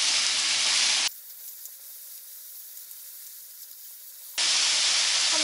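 Potato strips fry in a pan with a loud steady sizzle and hiss, which cuts to a much quieter stretch in the middle before the full sizzle returns, with no talk.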